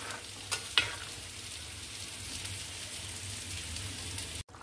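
Rohu fish and potato curry cooking in a pan, with a soft steady sizzle and a couple of brief scraping stirs near the start, fairly quiet and close, with no talk.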